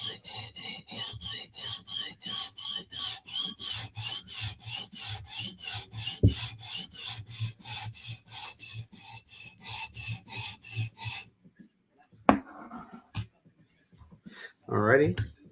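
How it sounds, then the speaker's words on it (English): Rhythmic rasping strokes of a knife edge with a large burr drawn across a sharpening stone, about two strokes per second for eleven seconds, then a few scattered scrapes and clicks, with someone talking in places. "the high-pitched noise is"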